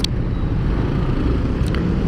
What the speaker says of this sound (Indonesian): Mobil kok lewat sini ya bos?